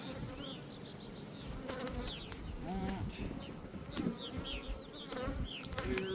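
Honeybees buzz in a dense, close swarm during a hive check, a continuous drone with individual insects whining past, while faint bird calls sound in the background.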